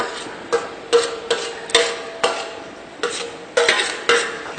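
A spoon stirs desi ghee into milk that has boiled down to half, scraping the pan in repeated strokes about every half second, close and fairly loud with no talking.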